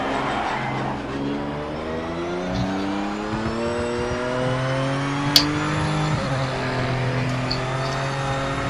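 A BMW race car in the racing game Project Motorsport drives continuously, its engine note rising and falling through gear changes, with a brief sharp click partway through and no talk.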